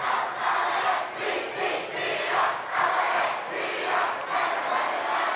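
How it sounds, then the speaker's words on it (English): Basketball crowd at a 3A West Regional high school game, Tigers vs. Mountain View, roaring and cheering in a sustained, loud, surging wave that rises and dips without letting up. "Just listen to the crowd"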